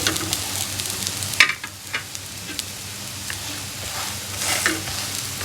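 An egg paratha fries in a pan with a steady, close sizzle, broken by a few sharp clinks and scrapes of turning or pressing, and no voices.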